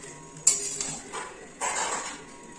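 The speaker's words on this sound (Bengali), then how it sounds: "আর একটু নেড়ে নিই।" A spoon scrapes and clinks against a pan while ghee-coated fried rice is stirred, two louder bursts of metal scraping at close range with quieter rustling between, no voices.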